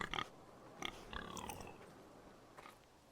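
A pig in the video game Game of Thrones grunts in a few short, low snorts and chewing-like noises, quiet and spaced apart over faint background.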